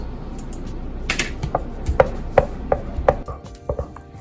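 A spoon mixes vanilla essence into eggless milk and cashew cake batter, knocking sharply against the bowl in a string of distinct, close taps at an irregular pace.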